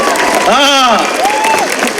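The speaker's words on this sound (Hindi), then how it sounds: "तालियां कम बज रही है" Applause from a large audience at a Bihar election rally, a steady wash of clapping and crowd noise filling the space while a voice rises in a sustained shout over it.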